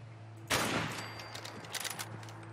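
Gunfire in Fallout 4 in the Lexington area: a sudden loud burst of shots erupts after a quiet hum, followed by a rapid string of fainter cracks that fade out over about a second and a half.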